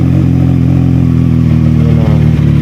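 A CF Moto 675NK motorcycle idles after a cold start, a loud, steady low engine drone with a slight throb that holds evenly throughout, close by and with no talking.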